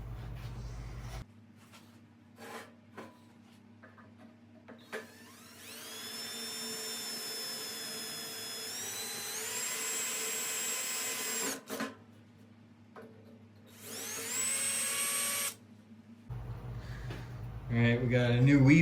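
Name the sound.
drilling a weep hole in a dirt bike frame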